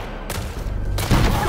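Gunfire in the Destiny video game during a Vault of Glass raid: a few loud, broad blasts and cracks fire in quick succession, crowding close together over a dense background of combat noise.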